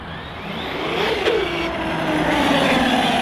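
A Team Corally Punisher 6S MT electric RC monster truck runs on stock setup, its motor whining steadily and rising in pitch as it accelerates past, loud and close.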